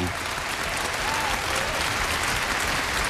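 Audience applause for a 65-player orchestra at a Lincoln Center concert, a dense, even wash of many hands clapping that holds steady and loud throughout.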